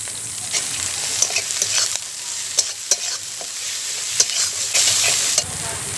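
Cumin paste and chilli powder frying in a pan, a continuous loud sizzle broken by repeated scraping stirs from a utensil, close by.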